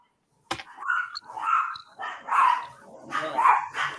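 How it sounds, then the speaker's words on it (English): Dogs in a live-streamed tank video game yelp and bark excitedly in a series of bursts, preceded by a sharp impact, with several overlapping calls close and fairly loud. "Listen to the hound celebrate the destruction."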